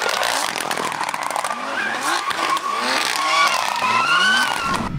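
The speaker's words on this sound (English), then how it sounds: "Before that, we also had an anti-lag system. You probably know the distinguished sound of our cars." Rally car with a turbocharged engine and anti-lag system, loud and close, engine revving in rising sweeps with crackling pops and bangs throughout, a harsh continuous roar with no talk.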